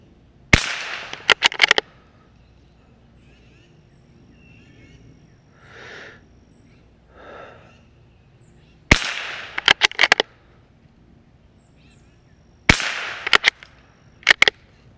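Target shooting with a firearm, sharp cracking shots in three clusters of several rapid reports, loud and close, with quiet gaps holding faint soft sounds between groups.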